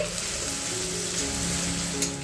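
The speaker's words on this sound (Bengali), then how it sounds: "আমার চিকেন অলমোস্ট কষে গেছে।" Chicken sautéing in a pan, with a steady close sizzle and crackle that stays even for a couple of seconds and has no talking over it.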